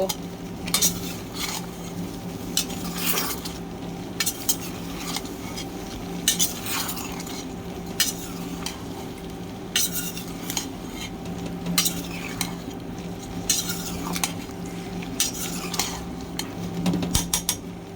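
Lentil and potato dhal dish being stirred in a pot, with steady scraping and clinking of a spoon against metal over a low simmering sizzle, repeated strokes throughout at close range.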